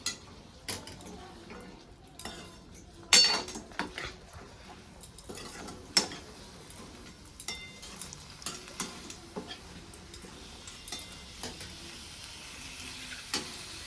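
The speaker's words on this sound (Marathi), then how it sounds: "हरभर ओतल्यानंतर आपल्याला पूर्ण मिक्स करायचं आहे" A spoon stirs chickpeas through spiced masala in a hot pan, scraping and clinking in irregular strokes over a faint sizzle, with sharper knocks against the pan every few seconds.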